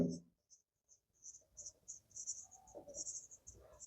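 Vector notes are written on a board in short scratchy strokes. The strokes come in quick irregular bursts, close and fairly faint, and a brief voice is heard at the start.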